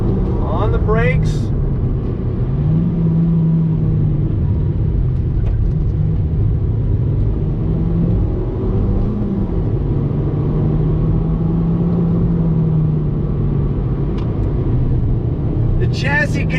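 A Nissan Sentra NISMO with a 6-speed manual accelerates on throttle, its engine a steady droning rumble with a rising then held tone, heard from inside the car at moderate level throughout.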